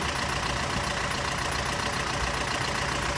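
Close, continuous engine idle with a rough, slightly unsteady rumble, running alone without any talking.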